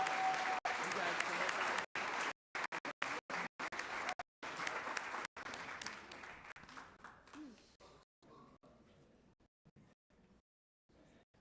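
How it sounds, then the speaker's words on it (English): A high school district board meeting audience applauds graduating seniors. Loud, dense clapping runs for several seconds, then breaks into sparse individual claps and quiets, with some voices among the crowd. "One more round of applause."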